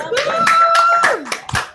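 Several participants in a virtual ceremony clap over open microphones, giving a handful of separate bursts of hand claps with gaps between them, mixed with brief voices and an electronic tone.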